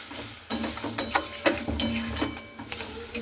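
Elephant foot yam curry being stirred in a pan after a splash of water, with scraping spoon strokes and soft clinks over a low simmering hiss, close and moderately loud.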